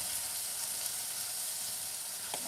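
Shredded cabbage and corned beef sizzle in a pan, a continuous hissing fry close to the microphone with a faint stirring scrape near the end, no talking.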